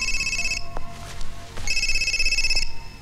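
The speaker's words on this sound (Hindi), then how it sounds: "माँ का फोन है।" A telephone rings with an incoming call inside a hospital, bursts of electronic ringtone in two long stretches separated by a brief gap, fairly loud over background room noise.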